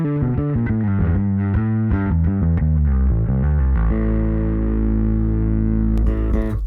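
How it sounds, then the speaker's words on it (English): An electric bass plays a melodic line through Darkglass Kali 76 and Atom pedals, giving a thick, driven, compressed tone with sustained notes ringing out, loud and alone. "here's my tone with the Kali 76 and the Atom engaged"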